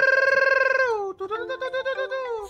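A telephone rings loudly and close, first a sustained buzzing tone, then a dip into a series of quick pulsing warbles, with no voices over it.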